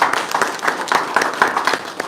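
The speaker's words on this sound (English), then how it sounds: "you deserve a round of applause" An audience at a summer camp kickoff event claps in a steady, rhythmic pattern of fairly close, distinct claps with little else around them.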